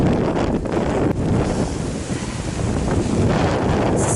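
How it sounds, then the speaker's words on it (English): Strong, gusting wind roars across an exposed stretch of the Cumbria Way, buffeting the microphone in broad, continuous rushes that swell and ease without a break. "The wind has become very, very strong in gusts."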